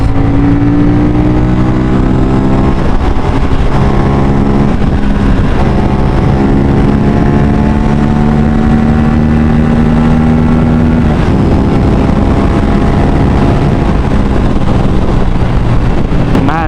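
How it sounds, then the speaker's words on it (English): Steady RS457 motorcycle engine drone with rising harmonic exhaust tones as revs climb and settle, continuous and close, with wind buffeting throughout; no talking. "The exhaust note sounds really nice. The exhaust note is pretty wicked."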